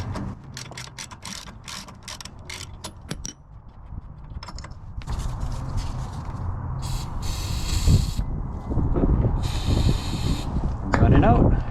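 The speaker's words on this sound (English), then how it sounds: "take the spark plug out and spray fogging oil into the cylinder" Two short hissing bursts of aerosol fogging oil sprayed into an engine cylinder through the spark plug hole, close up, amid metallic clicks and rattling tool handling.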